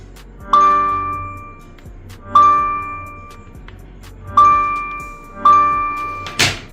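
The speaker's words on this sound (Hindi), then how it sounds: "और चार्जिंग के टाइम पे भी आपको साउंड सुनाई देता है।" Android 16 DerpFest on a POCO F5 phone plays its charging notification, a bright bell-like ding repeated four times at irregular intervals, each tone ringing clearly and decaying, with a short noisy burst at the end.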